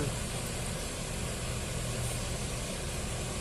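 A Hino RK8 tour bus engine runs as a constant low rumbling drone with a steady hum, continuous and unchanging throughout.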